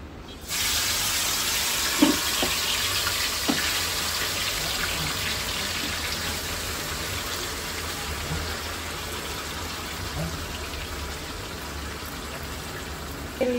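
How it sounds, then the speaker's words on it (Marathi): Chicken pieces, marinated for half an hour, deep-frying in hot oil. A steady, rain-like sizzle runs throughout, with a few sharper pops and spatters and no voices. "तर आपण हे चिकन आता त्याच तेलामध्ये तळायला टाकू"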